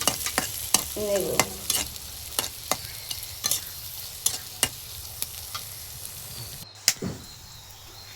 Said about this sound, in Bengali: এখন একই তেলে পেঁয়াজ কুচি দিয়ে ভালো করে নাড়িয়ে চাড়িয়ে ভেজে